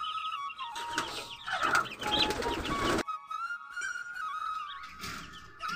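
Chickens clucking and calling inside a coop, with thin whistle-like bird tones throughout, close and fairly steady, a brief lull near the middle.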